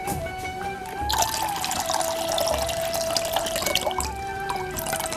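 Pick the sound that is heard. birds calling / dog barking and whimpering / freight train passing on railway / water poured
water poured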